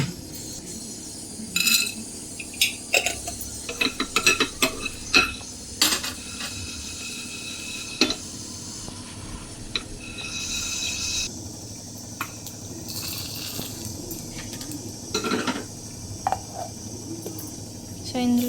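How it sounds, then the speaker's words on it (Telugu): Whole spices and black pepper dry-roasting in a pan for mutton chops, with scattered clinks and scrapes of a spoon against metal and a light background hiss, close by. "ఇప్పుడు మనము స్పైసెస్ని రోస్ట్ చేసుకోవాలి. మిరియాలు వేసుకోవాలి."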